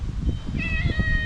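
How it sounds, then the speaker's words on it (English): A small cat gives one short, high meow close by, over low rumbling background noise. "Oh, his little cat."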